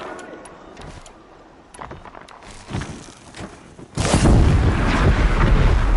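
Gunfire in the video game Horizon Zero Dawn: several sharp distant shots over a quiet ambience, then a sudden loud sustained burst of heavy fire and rumble for the final two seconds.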